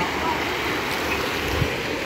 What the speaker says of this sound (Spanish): De hecho el río Celegua sigue su afluencia aquí.